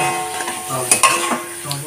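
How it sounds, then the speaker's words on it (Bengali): Eggs stirred and fried in a spice masala in a pan over a low flame: a soft sizzle under scraping stirs, with a couple of sharp utensil clinks midway and no talking. "গ্যাসটাকে লো ফ্লেমে রেখে ডিমগুলোকে কষে নেব।"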